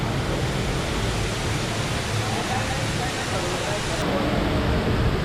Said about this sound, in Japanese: この滝、高さ40メートルくらいあるらしいです。